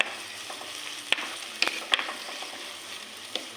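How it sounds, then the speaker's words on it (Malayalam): Crushed ginger and garlic with onions sauté in a pan for chicken curry, a soft steady sizzle punctuated by a few sharp clicks and taps of a stirring spoon. "അതിലേക്ക് നമ്മളെ ഇഞ്ചിയും വെളുത്തുള്ളിയും ചതച്ചത് ചേർത്ത് കൊടുക്കാം നന്നായിട്ടൊന്ന് വഴച്ചെടുക്കുക"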